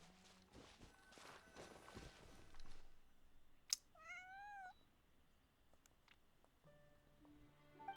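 A cat meows once in a video game, a short, clear, wavering call after some quiet footstep-like shuffling and ambient sound, with a faint chime and no speech.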